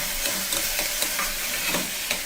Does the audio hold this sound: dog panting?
no